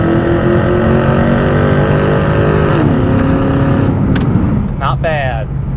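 A 2002 Pontiac Trans Am WS6 with a 5.7 engine and automatic transmission accelerates hard from a standstill, its loud, close engine note climbing, dropping briefly at a gear change, then rising again.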